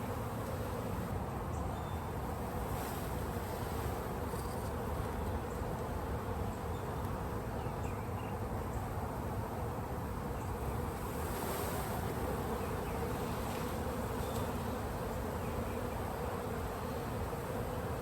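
A dense honeybee swarm buzzes continuously and loudly up close, a steady droning hum with no pauses and faint wind underneath.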